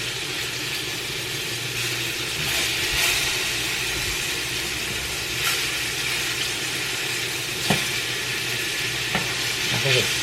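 Food sizzling steadily in a frying pan on the stove after being flipped, a continuous hiss with a low background hum and a few faint clinks.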